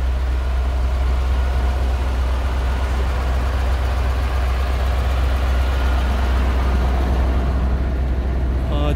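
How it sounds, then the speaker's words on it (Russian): A 1991 KamAZ dump truck with its standard engine running at a truck market in Osh, a deep, steady low diesel rumble that holds constant and loud throughout. "Тартканы КамАЗ, самосвал азыр жүрүп турган мезгили."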